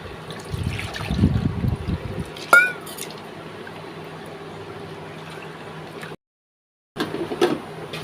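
Water is poured into a mixer jar to rinse it out, a close trickling splash with a sharp clink, then a quieter liquid wash, a brief silent gap and a final short splash.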